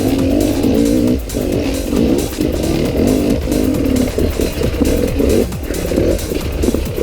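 An enduro motorcycle's rear wheel spinning on tricky ground, the engine droning loud and close in a continuous rough roar with uneven surges and clattering, no voices.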